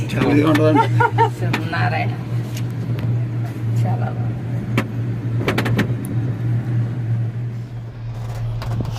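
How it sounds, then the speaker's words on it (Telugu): The Manakamana cable car in Nepal starts and travels, giving a steady low mechanical hum with occasional clicks and rattles, while people talk over it inside the cabin. "కేబుల్ కారు స్టార్ట్ అయ్యింది"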